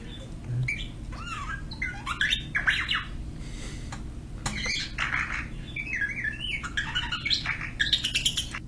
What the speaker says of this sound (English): The bird that's doing it is the same colors as R2